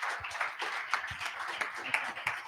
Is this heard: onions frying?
no